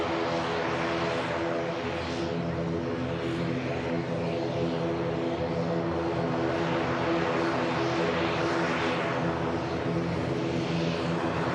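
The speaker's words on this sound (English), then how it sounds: "Couple of nice departures on the move." Jet airliner departing from the runway at Manchester Airport, a steady loud engine roar that holds constant throughout with no voices over it.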